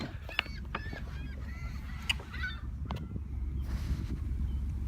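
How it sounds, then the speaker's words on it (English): Seagulls calling outdoors, several honking, squawking cries scattered across the clip at mid distance, set against steady wind-like rumble, with no talking. "There is lots of birds behind me."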